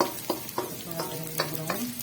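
Ginger and garlic fry in a pan as a base for sarson ka saag, a steady sizzle broken by several sharp stirring scrapes at a quick, uneven rhythm, heard close with no voices.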